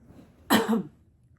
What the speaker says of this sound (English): Now I want you to cough.